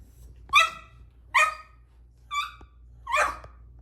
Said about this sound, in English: Hey, stop barking at me.